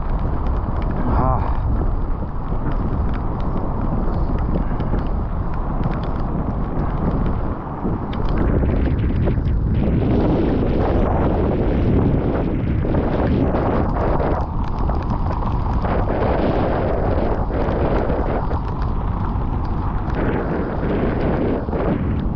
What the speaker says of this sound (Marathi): वारा आणि पाऊस.